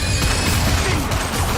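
An Incendio fire spell is cast in Hogwarts Legacy, a loud, dense burst of crackling, whooshing flame that fills the whole moment with a deep rumbling low end.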